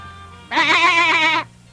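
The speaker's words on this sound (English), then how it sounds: "There's a goat in the middle of the sea, but its hair is all blue" An animated blue goat standing on a rock in the sea gives one clear, quavering bleat lasting about a second, loud and close with no speech over it.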